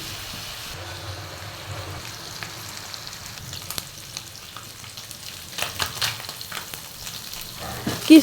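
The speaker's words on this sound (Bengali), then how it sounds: "মাছগুলো আমি সুন্দর করে কড়াইয়ের ভিতরে দিয়ে একদম সুন্দর করে নিব, মেলে নিব, যাতে একদম সম্পূর্ণ মাছটাই সুন্দর করে ভাজা হয়" Small puti fish spread out in hot oil in a wok, frying with a steady crackling sizzle that builds louder toward the end, with occasional clatters of handling, no speech.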